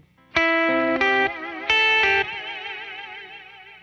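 An electric guitar plays a few sustained chords through a Meris modulation pedal placed after the reverb, giving wobbling, warbling chorus-like tones that ring out and decay alone.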